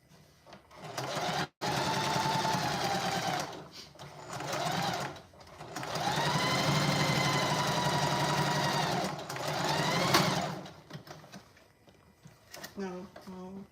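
A sewing machine stitches a tote bag in several loud, steady runs of rapid needle hammering, each stopping abruptly, with short quiet gaps and small clicks between bursts.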